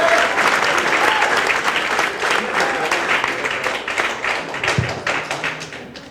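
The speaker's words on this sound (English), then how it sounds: "Give it up for Adam Morris, everybody. Let him hear it" Applause from a comedy club audience at Gotham as a stand-up comedian takes the stage, a dense, loud wash of clapping that carries steadily and slowly fades toward the end.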